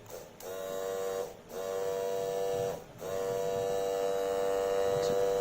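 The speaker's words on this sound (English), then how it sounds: "Let's test it with a 12 volts battery. And guys, now I have another beautiful motor in my collection." A small DC motor runs on a 12 volt battery, a loud steady close-up whine with a bright tonal hum that drops out briefly twice as it is stopped and restarted, then holds evenly to the end.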